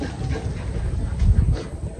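Dogs bark and whimper in a noisy, rumbling setting, with the loudest burst around the middle of the clip and no talking.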